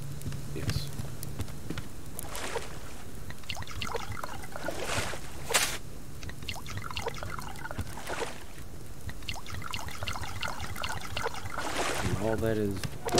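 Water trickles and splashes over garden plants in the survival game Subsistence, in uneven bursts under a voice talking.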